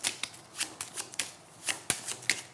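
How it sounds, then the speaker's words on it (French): A deck of playing cards shuffled by hand during a magic trick, a quick run of crisp riffling flutters and soft slaps, close and fairly quiet, with no talking over it. "Là, pour que les gens voient comment tu mélanges bien"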